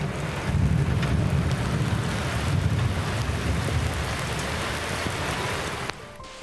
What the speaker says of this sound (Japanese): 結局線状降水帯は発生しませんでしたが、県西部を中心に大雨となりました。